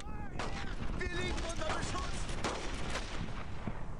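Gunfire in the World War II shooter Brothers in Arms: Earned in Blood, a dense stream of rapid shots and bursts over battle noise, with soldiers shouting through it.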